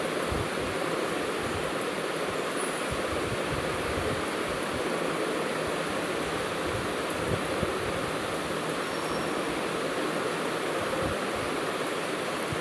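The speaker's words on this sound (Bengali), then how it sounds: "এখন রসুন আর শুকনো মরিচ দিয়ে" Malabar spinach fries in a pan with garlic and dried chillies, giving a steady, dense sizzle that holds at an even level throughout with no talk.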